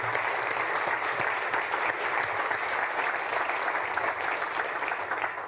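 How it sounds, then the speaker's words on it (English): Conference audience applauding the organizing committee in a lecture hall: steady, dense clapping from a large crowd, sustained and even throughout, with no talk over it. "we should give Harvey and the rest of the organizing committee another round of applause"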